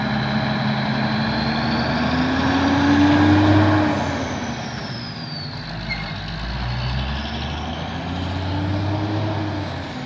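A truck's engine runs steadily up close, its turbo whistle rising and falling in a thin high tone over a deep, rumbling drone.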